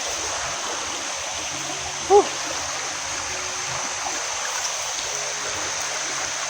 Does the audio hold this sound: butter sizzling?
no